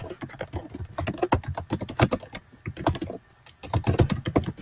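Rapid keystrokes on a computer keyboard as a document name is typed, a close, busy clatter of individual taps with a couple of brief pauses, no talking.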